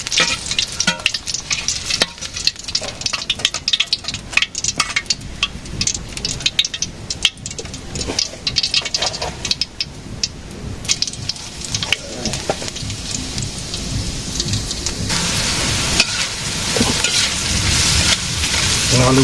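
Food fries in a pan with a constant crackling sizzle, interrupted by frequent sharp spatters and scraping. The sizzle grows louder and hissier over the last few seconds, and no one speaks.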